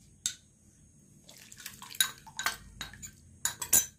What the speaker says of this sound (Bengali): এবার চাল বাটাটা দিয়ে কিন্তু অনবরত নাড়তে হবে।